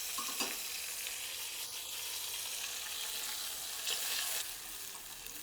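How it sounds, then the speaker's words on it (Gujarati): Tomato puree bubbles and spits softly in a kadai over a low gas flame, a quiet, continuous sizzle with a few louder pops. "કડાઈમાં ઉમેરી દઈશું અને થોડી વાર ઢાંકણ ઢાંકી દઈશું જેથી ટમેટાની પ્યુરીના છાંટા બિલકુલ બહાર ના ઉડે."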